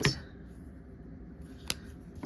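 Scissors snip through a foundation paper-pieced quilt block, with one cut at the start and a few more near the end: short, crisp and fairly close, with a quiet pause between them and no talking.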